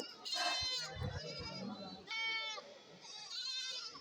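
Young goats bleat in short, wavering cries at a Kerala goat market, several calls in a row, nearby, with some background voices and farmyard bustle.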